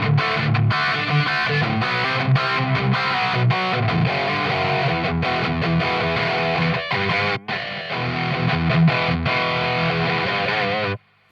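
A DigiTech Death Metal HM2 distortion pedal with every knob at 10 drives a guitar into thick, saturated, buzzing chords that ring continuously, loud and dense, before cutting off abruptly at the end.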